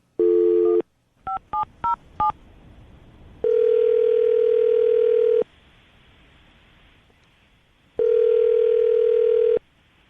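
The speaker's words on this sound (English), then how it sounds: "we're going to call him right now, see if we can get him on the phone" A radio show's telephone call being placed: a burst of dial tone, four quick keypad touch-tones, then two long ringback tones separated by silence, clear and close.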